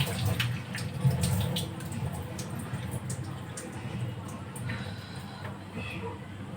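Chicken is rinsed under a running kitchen tap, a continuous close wash of splashing water with some squishy handling. Faint voices can be heard underneath.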